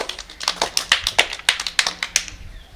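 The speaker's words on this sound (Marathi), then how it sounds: "टाळ्या वाजवा एकदा स्वतःसाठी" Children clap for themselves after a counting game, a quick run of about a dozen crisp, uneven claps that trails off within three seconds.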